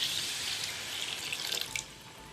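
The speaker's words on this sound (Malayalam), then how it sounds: "ആദ്യമായിട്ട് 3-ാം പാൽ ഒഴിക്കുക." Third extract of coconut milk poured into wheat payasam, a steady liquid splash running for about two seconds, close and fairly loud, with a brief burst of sharper splashes near the end.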